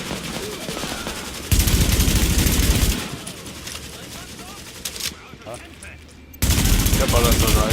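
Bursts of automatic gunfire in the video game The Division, loud sustained volleys separated by quieter stretches of ambient game noise, with a voice talking over parts of it.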